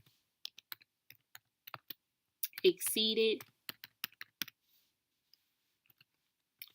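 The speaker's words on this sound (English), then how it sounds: "in my database, I begin with typing in consent," Light, scattered clicks of typing on a computer keyboard, with a brief spoken word in the middle before the tapping resumes sparsely.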